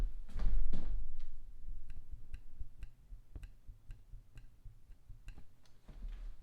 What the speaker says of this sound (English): And then you will have a clicker that sounds like this.